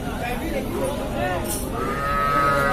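Cattle moo repeatedly among young bulls and heifers at a crowded rural livestock market in Bangladesh, the calls rising over steady crowd chatter and background voices.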